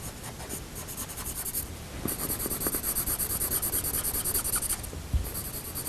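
Coloured pencil shading dark fur on paper, a steady close scratchy rasp of strokes that pauses briefly then resumes in quick, even repeated passes, alone without talk.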